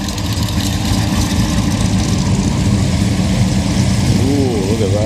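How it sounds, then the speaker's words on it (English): Two Holden cars roll in at a Coffee and Cars show, their engines rumbling steadily at close range with a low idle drone under outdoor crowd noise. "Couple of nice Holdens coming in."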